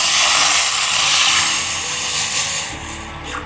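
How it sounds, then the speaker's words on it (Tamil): Poppy seeds toasting with rock salt in a dry pan give off a steady, close, broadband hiss and crackle that thins out near the end, with no voices. "கல்லுப்போட கசகசா ஒரு அரை தேக்கரண்டி அளவு சேர்த்து இரண்டையும் வறுத்துடலாம்."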